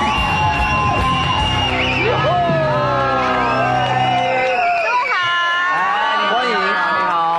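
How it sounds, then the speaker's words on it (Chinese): A studio audience on a TV cooking show whoops and cheers to welcome four guests, with loud, excited shouts and overlapping voices filling the room. "我们用最温暖的掌声来欢迎"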